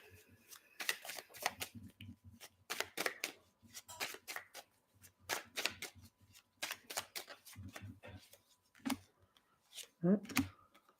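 Oracle cards being shuffled by hand in repeated bursts of crisp riffling and flicking, close and moderately loud, with a voice talking intermittently between the bursts.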